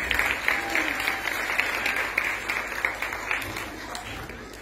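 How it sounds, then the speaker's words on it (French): Audience applause at a theatre training session, a dense, steady wash of clapping that holds at an even level for nearly five seconds with no clear voices on top. "Applaudissez."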